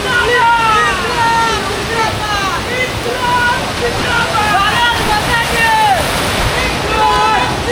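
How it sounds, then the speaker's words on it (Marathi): Broad roar of a waterfall on a swollen river in heavy rain, loud and constant, with someone talking excitedly over the rushing water. "इथे समोर खाली वॉटरफॉल आहे."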